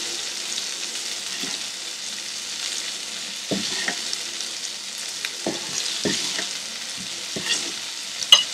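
Marinated, lightly floured prawns fry in hot oil, crackling steadily with a soft sizzle while a utensil stirs and lifts them, scraping and tapping now and then close by.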